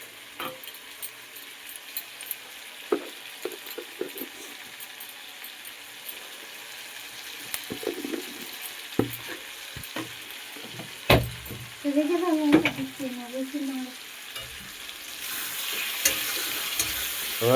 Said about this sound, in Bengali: এবার মশলাটাকে আস্তে আস্তে ধীরে ধীরে কষিয়ে নিয়ে তেল ছাড়লে সব কিছু দেওয়া হবে।